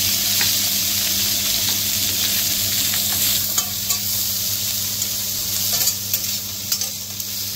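Masala frying in a pan for a Goan rohu fish curry makes a loud continuous sizzle and hiss, with stirring scrapes dotted through it and no voices.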